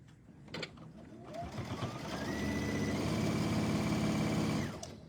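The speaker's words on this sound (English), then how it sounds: "I'm just gonna do a top stitch around our flap piece here." Sewing machine top stitching around the flap of a towel bag, a close steady mechanical whir that revs up over a few seconds, runs evenly, then stops.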